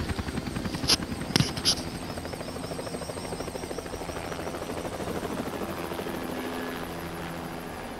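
Helicopter from the video game Hitman (2016), its rotor and engine thrumming as a steady, fairly loud whir throughout, with a few sharp game effects cutting in early.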